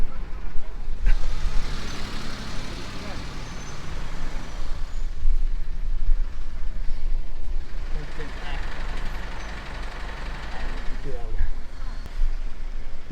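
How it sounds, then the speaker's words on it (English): Jammed road traffic of many cars on a mountain road in Leh, Ladakh, with a constant rumble of idling and creeping engines and a hiss like a truck's air brake, close by, under steady chatter from people nearby. "We are stuck at this place. Look at this. So many cars"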